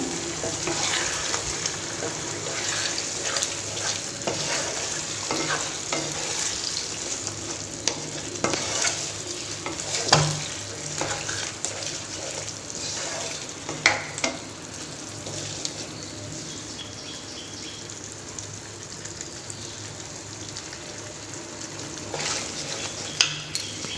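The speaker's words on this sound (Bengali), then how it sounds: "তো এই যে দেখো পনিরটা এবারে আমি দিয়ে দিলাম এখানে" Paneer fries in a pan while being stirred, a constant sizzling hiss with scattered scrapes and clinks of a spoon against metal, heard up close over about twenty seconds with faint background noise.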